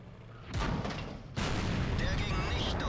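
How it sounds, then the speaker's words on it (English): A long 88 mm tank gun fires in a tank game with the Tiger P, two heavy booming blasts in quick succession, the second sustaining a loud rumbling roar; someone speaks faintly beneath. "the long 88s have this loud noise"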